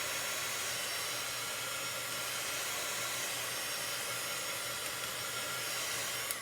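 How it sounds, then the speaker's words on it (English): A heat tool dries silver shimmer chalk paste on a transfer, giving off a constant close whooshing hiss that holds steady for the whole stretch with no talking. "I use a heat tool."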